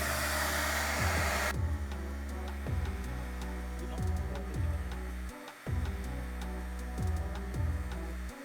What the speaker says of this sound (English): So I'm going to use my heat gun.